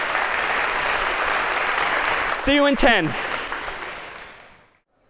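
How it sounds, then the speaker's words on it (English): An audience in a university computer science lecture hall gives a round of applause for volunteers, a steady broadband clatter that fades out over a few seconds, with a brief spoken line near the end. "a big round of applause for our volunteers"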